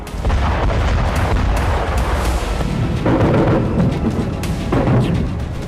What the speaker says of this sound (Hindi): क्रीमिया के उसी तट पर एक बार फिर भयंकर धमाके हुए।